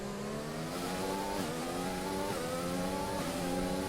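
Race car engine revving hard with rear wheelspin in a racing video game, pitch climbing in repeated surges broken by quick gear-shift dips, loud and close, no voices.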